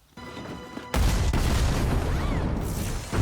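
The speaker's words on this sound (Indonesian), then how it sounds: "bola bercahaya itu meledak" In the animated series Arcane, a glowing orb explodes: a sudden loud explosion bursts out after a quieter hum, followed by a sustained roaring rumble of debris and noise.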